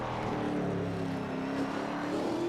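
ARCA race car at South Boston comes around to start its first lap, a steady mid-distance engine drone that holds a roughly even pitch with a slight rise, with no voices over it.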